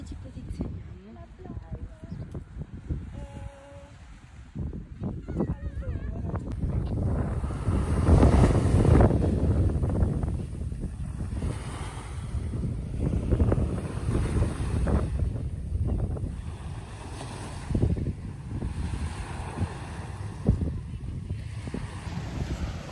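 Sea waves wash ashore on a beach while gusty wind buffets the microphone, a loud continuous roar that swells and ebbs, with someone talking over it near the start.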